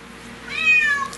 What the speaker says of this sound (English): Even the cat wants some.